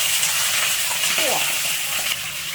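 Crucian carp fries in a small amount of lard for a traditional crucian carp soup, giving off a steady, close sizzling hiss that rises and falls slightly over the whole stretch.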